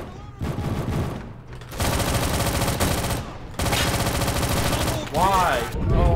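Rapid bursts of video-game gunfire from a gun in Roblox Recoil on the Nuketown map, loud dense volleys broken by brief pauses, with a voice briefly heard near the end.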